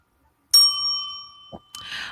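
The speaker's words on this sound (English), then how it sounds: "I will ring my own bell." A small bell rings once with a bright, clear ding that hangs and slowly fades, followed by a brief knock and a second, shorter ring.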